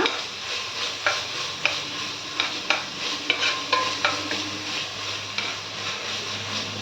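Ginger frying in a pan for a chicken curry, a steady close sizzle broken by regular sharp scraping stirs, with no talking.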